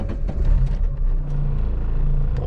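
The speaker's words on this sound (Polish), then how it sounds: "palę AX-a" A Citroen AX small car engine, 45 horsepower, runs close by with a low steady rumble and a brief rise in revs early on before settling into an even drone.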